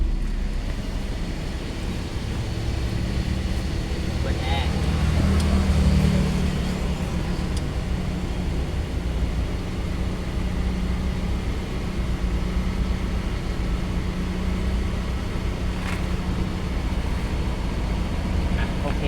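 A Toyota Yaris engine idles steadily after starting, following a throttle body cleaning, a low continuous rumble with a faint whine, near and unchanging throughout.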